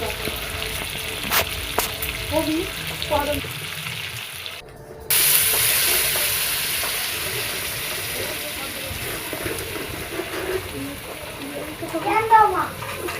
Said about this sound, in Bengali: দেখো চিকেন ভালো করে কষে গেছে, এখন আমি জল দিয়ে দেব, গরম জল।